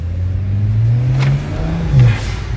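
A BMW 335i engine with a new chargepipe revs up and accelerates twice on a test drive, the pitch climbing and dropping, loud and close with a steady rumble underneath.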